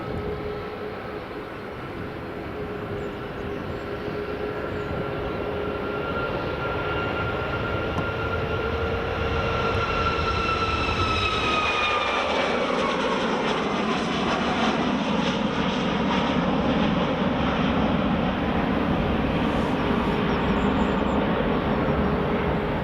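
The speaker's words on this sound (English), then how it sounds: "Right, Ryanair 737 MAX is now departing." A Ryanair Boeing 737 MAX departs Edinburgh Airport, its engine roar building steadily from a loud jet whine with falling tones into a broad, continuous rumble that holds strong to the end, with no talk.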